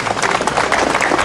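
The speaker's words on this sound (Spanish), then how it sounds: "Un aplauso aquí para Carlos" A street crowd in San Cristóbal de Las Casas, Chiapas, breaks into a short, dense burst of clapping and applause at an outdoor public gathering, loud and close.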